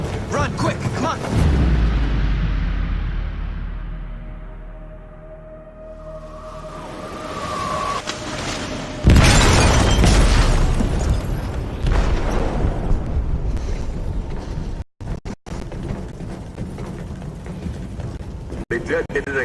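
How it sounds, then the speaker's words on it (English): A loud explosion detonates in a hole during a sinking-ship scene in the game Detroit: Become Human, a heavy boom followed by a long rumbling roar and debris, with voices and game sound effects mixed in. "They detonated an explosive in the hole."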